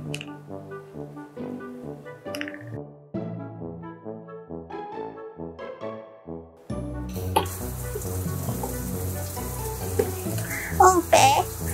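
A toy doll being rinsed in a bath, heard as running water and splashing that starts about halfway through, following stretches of musical and voiced sound.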